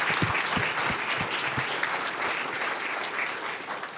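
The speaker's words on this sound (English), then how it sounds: "Round of applause for these two." An audience at a live staged play reading claps in steady, dense applause that fills the room for several seconds, fairly close and even in loudness.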